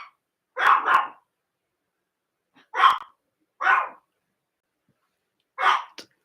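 A dog gives five short, sharp barks, mostly in quick pairs, with pauses of silence between the bursts. The barks are close and clear, with nothing else heard.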